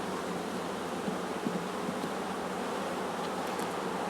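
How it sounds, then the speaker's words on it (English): Honeybees in an opened hive during a colony split, a dense continuous buzzing swarm close by, steady and even throughout with no voices. "Ooh, there's lots of bees down there."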